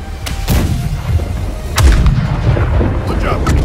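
Ship cannons firing in the pirate naval game Blackwake, a string of loud, deep booms in close succession with rumbling tails that overlap, heard without talk.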